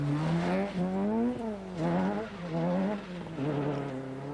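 Rally car on a live stage of the 1995 RAC Rally in Britain, engine note rising and falling through repeated revving and gear changes, loud and fairly close with no talk.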